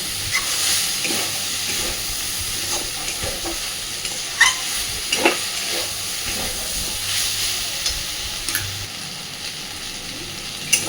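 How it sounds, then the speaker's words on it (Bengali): Vegetables sizzle and fry in a karahi after chilli powder is added, for a fish roe chorchori. A steady hissing sizzle runs throughout with a few sharp clinks of stirring. No one speaks. "লঙ্কার গুঁড়োটা দিয়েও সুন্দর করে আর একটু ভাজতে থাকবো"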